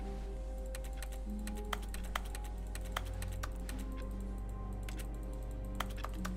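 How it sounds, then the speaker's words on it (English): Rapid keyboard typing in the video game The Stanley Parable, a steady stream of close, crisp key clicks with a few sharper strikes over a constant low hum, no voices. "Why does it sound like I'm hitting a keyboard?"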